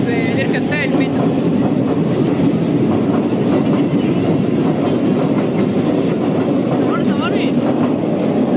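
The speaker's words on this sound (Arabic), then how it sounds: "دي تاني مرة نركب فيها المترو" Cairo metro train riding along, with a steady loud rumble and rhythmic clickety-clack of the carriage throughout, plus faint squeals and a busy interior around the riders.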